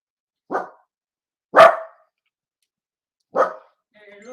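Wiener dogs bark at nearby construction, three sharp separate barks spaced over a few seconds, loud and close, with faint other sound trailing at the end.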